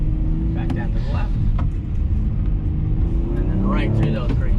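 A BMW 5 Series, either an i5 or a 540i, drives an autocross course at a BMW event in Philadelphia. Its engine and road rumble run steadily through the whole stretch, with people talking over it.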